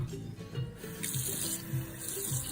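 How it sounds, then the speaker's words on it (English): Tap water runs steadily into a kitchen sink while a garbage disposal churns food remnants, a continuous close rushing with a low motor hum beneath it and no talk. "Get down there. Garbage disposal. Do your thing."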